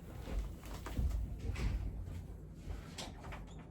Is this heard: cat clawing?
yes